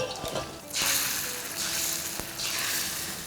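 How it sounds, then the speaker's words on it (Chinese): Beaten eggs hit hot oil in a wok with bursts of loud, close sizzling that swell and fade in waves, with a brief clink of utensils between them. "这步呢，我们直接下入鸡蛋，"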